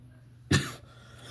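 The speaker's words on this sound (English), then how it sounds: "Sorry about that random cough" A single sharp cough, close and fairly loud, breaks an otherwise quiet room and fades quickly.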